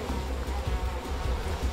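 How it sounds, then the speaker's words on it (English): Swarming bees buzz in the video game We Happy Few, a continuous low droning hum that wavers in loudness and stays close and steady throughout. "you'll see what I mean about the bees attacking them"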